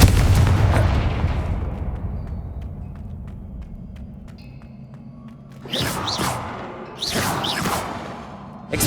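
Incendio and Confringo spells cast in the video game Hogwarts Legacy, a loud fiery blast fading into a low rumble, followed by two more sharp, bright bursts close together.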